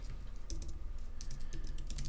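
Computer keyboard typing during a live Neovim configuration session, with bursts of quick, close keystrokes clicking in clusters over a steady low room hum.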